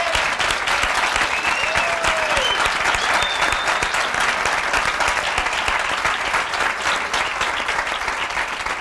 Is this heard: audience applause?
yes